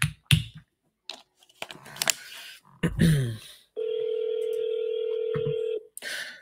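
A ringback tone on an outgoing telephone call sounds as one steady electronic tone lasting about two seconds, following a stretch of nearby talking and handling noises.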